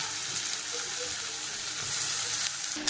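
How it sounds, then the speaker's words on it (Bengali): Chopped onion hits hot oil with dried chilli in a pan, giving a steady close hissing sizzle with a faint clatter near the end. "এবার দিয়ে দিচ্ছি পেঁয়াজ কুচি মা বেশ অনেকটা পেঁয়াজ কুচি দিয়েছি"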